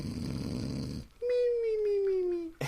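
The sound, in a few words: person imitating snoring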